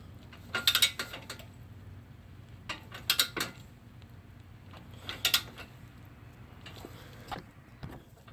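A torque wrench tightens bolts to 35 foot-pounds during a 1.6L turbo engine and 6F35 transmission swap on a 2013-2016 Ford Escape, giving three short bursts of sharp ratcheting clicks spaced a couple of seconds apart over a low background hum.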